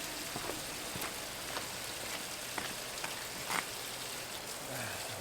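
Dirty water pours from a sump pump hose onto garden beds in front of a house, giving a steady, soft rain-like wash with scattered small splashes at moderate distance, no talking.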